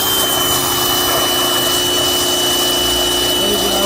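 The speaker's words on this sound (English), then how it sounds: "I got my pressure washer out. We're going to test these valves" A pressure washer sprays steadily and loudly without a break, used to test for leaks at the engine valves of a 1997 Honda Civic cylinder head during a home repair.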